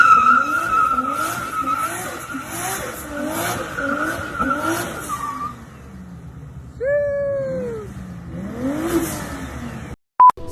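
A powerful single-turbo Toyota Supra engine revs hard in a string of rising sweeps as it speeds through gears, then briefly eases off before winding up again, close and loud.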